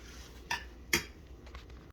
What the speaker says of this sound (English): we're going to mix all this together right in the pan